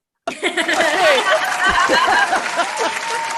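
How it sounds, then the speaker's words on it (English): A live improv comedy audience bursts into cheering, laughter and clapping all at once, a loud, dense crowd roar that holds steady after starting abruptly. "I will not forget that cheer"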